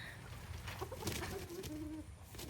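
Chickens on a homestead, with faint clucking and a low cooing call from the birds as a rooster chases a hen, heard at a distance against quiet background noise.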